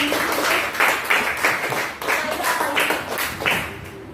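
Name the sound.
classroom applause, clapping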